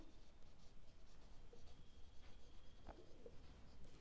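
A pen scratches steadily across a board during a class 12 mathematical logic lecture, faint and continuous under a soft background hiss, with no talking.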